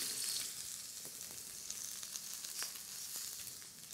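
Pieces of rabbit meat fry in oil, giving a faint, steady crackling sizzle with scattered small pops, close but quiet.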